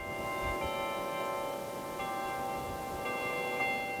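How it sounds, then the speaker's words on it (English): Church steeple chimes ringing, with sustained metallic tones that overlap and swell in a few successive strikes over a steady background hush. "That's what I see when I look at this steeple and hear the chimes."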